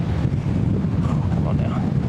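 Gale force wind roars and buffets a microphone outdoors at a disc golf course in Cutter Park, Norfolk, a loud continuous rumbling blast with gusty surges throughout.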